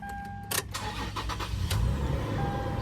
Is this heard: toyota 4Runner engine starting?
yes